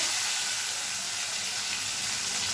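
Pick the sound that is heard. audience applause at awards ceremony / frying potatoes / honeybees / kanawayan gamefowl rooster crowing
frying potatoes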